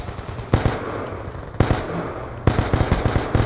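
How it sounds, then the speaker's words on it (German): Video game gunfire from Call of Duty Black Ops 2 multiplayer: three loud bursts of rapid automatic fire, each a quick string of sharp cracks, separated by short pauses filled with game ambience. "Oh Gott, wie schießt die Waffe denn?"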